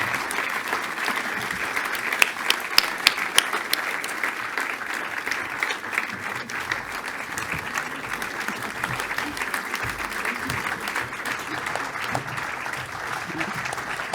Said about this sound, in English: just so that everybody can give you a round of applause